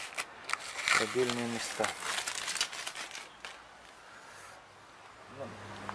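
Adhesive tape being stripped off a screen-printing frame, heard as bursts of crinkling and tearing that come and go, with someone speaking over parts of it.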